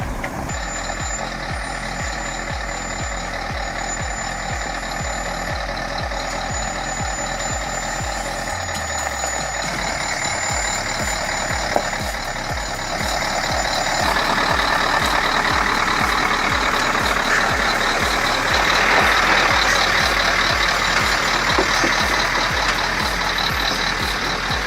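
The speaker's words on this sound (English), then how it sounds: "Nothing beats the growl of a V engine." A Mercedes logging truck with a V engine runs close by, a steady heavy rumble with rhythmic low pulsing, a reversing beeper sounding over it early on and the engine note swelling louder in the second half.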